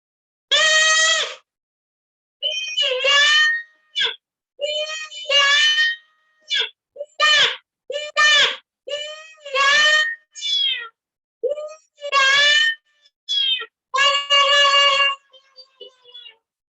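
A small straw toy imitates a two-month-old baby crying, giving a run of short, loud, wailing cries broken by brief pauses; no real infant cries.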